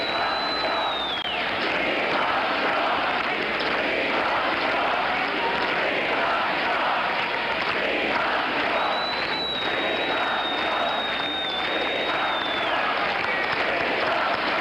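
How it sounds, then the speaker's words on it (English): Convention delegates at the 1976 Democratic National Convention cheering and applauding in a huge hall, a dense sustained roar of crowd noise with clapping and whistles throughout. "They're cheering, "We love New York.""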